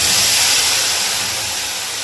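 Spice paste of black cumin, cumin, garlic and chilli sizzles in hot oil for a home-style fish curry, a steady loud hiss that fades slightly over two seconds.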